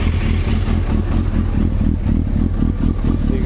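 A 2003 Suzuki Hayabusa with an Akrapovic exhaust idles and revs close by, its deep pulsing engine note throbbing steadily and loudly throughout, with no voices.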